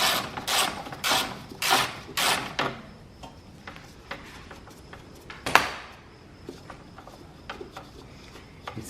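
A 10 mm wrench works on a bolt with a run of sharp metallic ratcheting clicks, loud and rapid at first, then lighter and more scattered ticks, close up with no talking.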